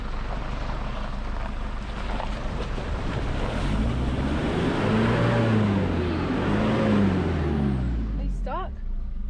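A vehicle crossing a creek on the Bloomfield Track, water sloshing and rushing under strong wind buffeting, with engine tones rising and falling near the end.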